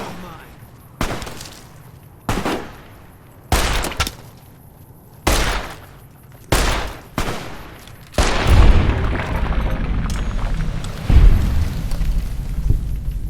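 Gunfire in Fallout New Vegas, set in Freeside: six sharp, evenly spaced shots about a second apart, then a loud, sustained rumbling barrage of blasts and debris.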